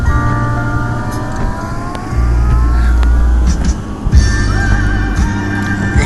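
A four-wheel drive truck drives through a heavy blizzard at night, its engine and tire noise a steady close rumble that swells and shifts in pitch as it moves along the snowy road.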